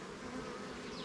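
Honey bees buzz at a beehive kept by a first-year beekeeper, a dense, steady close-up drone that holds without a break for a second.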